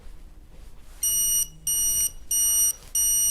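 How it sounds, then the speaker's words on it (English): A Youngshine IPAS proximity alert system sounds its caution-zone warning: four loud, high electronic beep bursts, each about half a second long, repeating in a steady rhythm over faint background noise. "So now I'm in the caution zone, and you'll see it gives you a sound alert"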